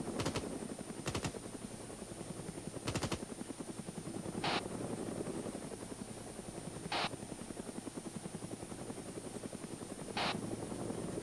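A video game helicopter flies with a loud, continuous rhythmic rotor chop throughout, steady and close, with a few sharp bursts of gunfire and short tones over the top.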